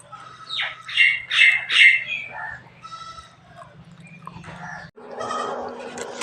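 Young goats bleat in a corn field, a cluster of high, quavering cries close by early on, then fainter scattered calls over a steady low hum and rustling background.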